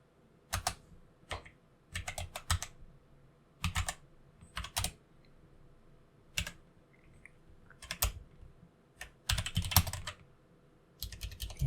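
Someone types on a computer keyboard in short, scattered bursts of crisp, close keystrokes separated by quiet pauses.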